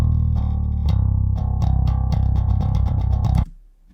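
Bass guitar played through the DI output of a Eurobass III pedal: a loud, close run of plucked notes with deep, steady low end, ending abruptly near the finish.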